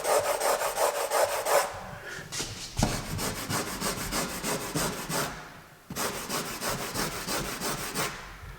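A fingernail scrapes back and forth across a freshly applied, still-curing coat of water-based primer, making close, dry rasping strokes in rhythmic bursts with brief pauses between passes.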